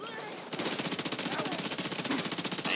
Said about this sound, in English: Let's switch to the SMG.